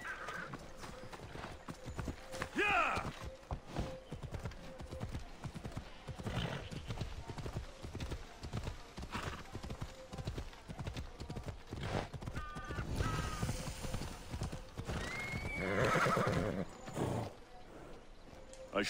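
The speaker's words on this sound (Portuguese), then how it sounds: "Chamar aqui o cavalo." Horse hooves clip-clopping steadily with occasional neighs and whinnies in the video game Assassin's Creed Odyssey, fairly quiet and continuous throughout.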